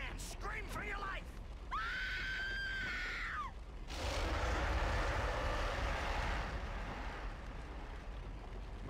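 A sustained scream rings out in a cutscene from the King Kong video game, loud and held for about two seconds, set against rumbling game ambience and background noise, with other voices talking around it.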